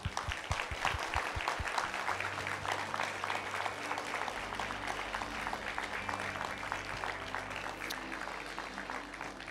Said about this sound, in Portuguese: Dê um aplauso forte ao Senhor